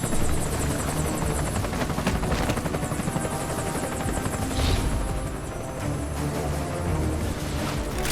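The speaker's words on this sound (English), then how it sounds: "What, the helicopter?" Helicopter rotor in the Metal Gear Solid Peace Walker video game, a loud steady chopping thrum that fills the whole stretch, with no talk over it.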